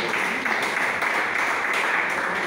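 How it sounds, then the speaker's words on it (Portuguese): A church congregation claps hands together in a dense, continuous patter of many hands, steady and fairly loud throughout with no speech over it. "Pode bater as palmas assim, alegre para Jesus."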